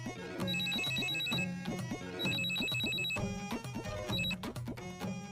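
Mobile phone ringtone plays in a drama scene, a loud electronic melody with bright repeated beeping tones cycling several times, no voices over it.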